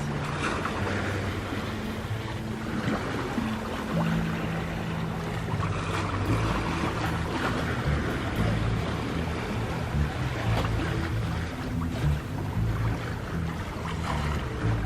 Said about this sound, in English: We're sailing along on the jib only at the moment.